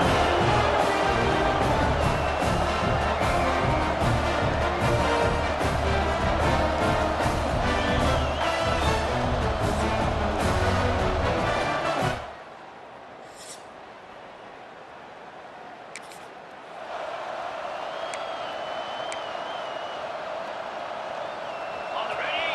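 A loud, roaring stadium crowd in the video game EA Sports College Football 26 fills the first half with a voice talking over it, then it drops abruptly to a much quieter ambient hum.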